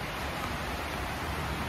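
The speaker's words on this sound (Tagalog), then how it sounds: "So 1 week na daw umuulan." Steady rain falls at a resort in Cairns, Australia, producing a dense, even hiss that stays constant and close with no voices or other sounds.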